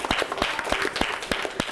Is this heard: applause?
yes